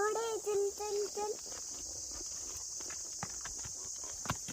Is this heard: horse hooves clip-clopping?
yes